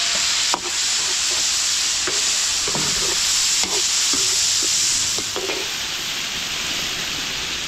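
Garlic, onion and tomato sautéing together in a large catering wok for pinakbet, a loud steady hiss of hot oil with periodic ladle scrapes and knocks, no talk.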